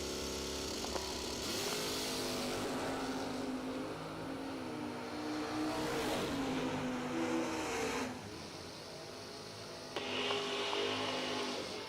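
Nitrous-fed drag racing cars roar from a distance at a drag strip, their engine note surging and dropping as the throttle opens and closes, with a couple of sharp cut-offs and no talking.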